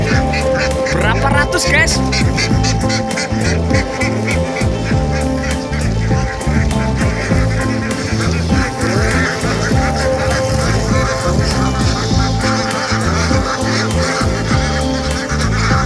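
Hundreds of ducks filling a road in Ngancat tourism village quack and honk nonstop in a dense, loud chorus, with a voice speaking briefly over the din.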